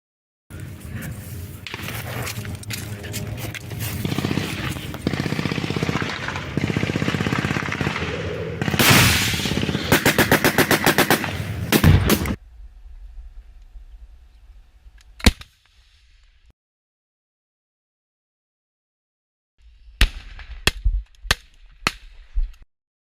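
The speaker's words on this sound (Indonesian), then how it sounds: "mereka mampu menyerang dengan tembakan yang lebih mematikan" Dense, rapid bursts of gunfire roar for about twelve seconds, then a lone sharp crack follows, and a few scattered distant shots pop after a short silence.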